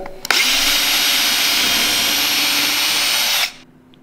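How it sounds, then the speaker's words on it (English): Power drill with a 5/16 bit boring a hole through a card: a short tap, then a loud, steady high-pitched motor whir for about three seconds that cuts off sharply and winds down. "get a 5/16 drill bit and just go ahead and drill that hole in"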